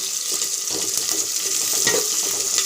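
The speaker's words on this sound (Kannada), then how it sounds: "ಈರುಳ್ಳಿ ಸ್ವಲ್ಪ ಫ್ರೈ ಆಗಿದೆ." Onions frying in a pan produce a bright, continuous sizzle with occasional stirring scrapes, close and fairly loud, with no voices.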